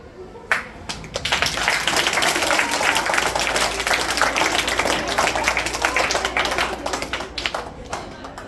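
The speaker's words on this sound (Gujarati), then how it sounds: "તાળીઓ પાડી" A dense burst of clapping from a sizeable audience at a school annual day function rises quickly and holds steady for several seconds before tapering slightly at the end.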